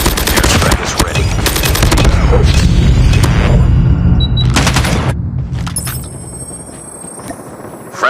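Airstrike explosions and heavy gunfire in a Call of Duty Mobile ranked multiplayer match, with dense bursts of booms and automatic fire filling the first five seconds, then a few scattered blasts and a quieter tail with a brief voice.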